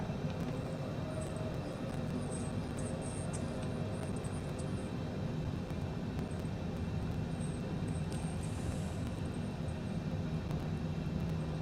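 A light airplane sits on a runway lining up for takeoff, its engine giving a steady, loud, continuous drone with a faint high whine, no talk over it.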